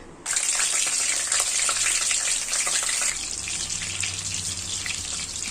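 Two pieces of paneer frying in hot oil in a pan, a loud, bright, continuous hiss and crackle close by that settles slightly quieter after a few seconds.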